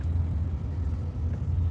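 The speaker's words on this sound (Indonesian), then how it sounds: "suara itu suara mobil gede." Low, steady rumble of a large car passing at a distance, faint and brief, with no other sounds over it.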